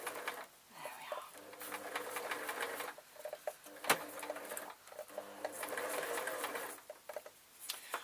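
A sewing machine stitching a foam sheet for an owl purse, running in close, loud bursts of rapid needle chatter that stop and restart, with a sharp click midway and soft talk between runs.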